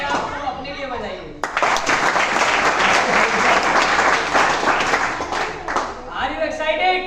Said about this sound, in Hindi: एक बार जोरदार तालियां आपको अपने लिए बजाइए।